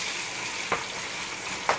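Onions frying in heated oil give a steady, soft sizzle throughout, with two brief louder crackles or stirs partway through; no one speaks.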